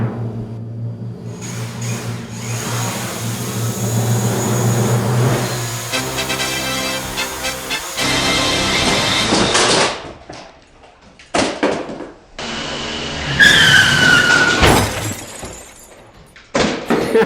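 A DJI drone spinning up and lifting off indoors, its rotor whine loud and steady, then abrupt clattering crashes and bangs as it hits things, followed by scattered knocks and rattling.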